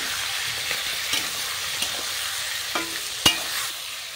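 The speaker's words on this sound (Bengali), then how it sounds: "এরপর ভালো করে একটু নাড়িয়ে আমি ভেজে নেব।" Chicken pieces seasoned with salt and turmeric being stirred and fried in hot oil, a steady close sizzle broken by a few sharp scraping knocks of the spatula against the pan.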